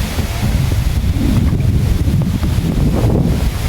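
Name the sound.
wind blowing on the coast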